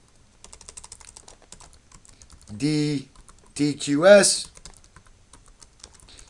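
Light, rapid keyboard typing clicks run through the clip, interrupted by a few bursts of a person speaking.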